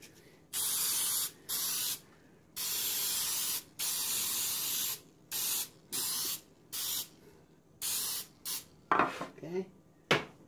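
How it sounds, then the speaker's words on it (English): Cooking spray hissing into a metal baking pan for sweet potato pudding: about ten loud bursts of aerosol spray in uneven succession, with a faint clatter at the end. "Let me spray this really good."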